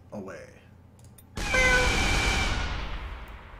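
A cartoonish cat meow effect from the kittens weapon in the artillery game Shellshock Live bursts in loudly after a brief quiet lead-in and then slowly fades, with a voice speaking faintly at the start.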